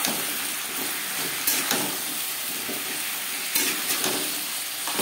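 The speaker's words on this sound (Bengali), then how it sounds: "কুমড়োর সাথে আদা ও কাঁচা লঙ্কা বাটা বেশ ভালো করে মিক্স করে দেবো।" Ginger and green chili paste sizzles in a pan with pumpkin for a Bengali labra, a soft, steady frying hiss broken by a few short scrapes and clinks of stirring, quiet and close with no talking.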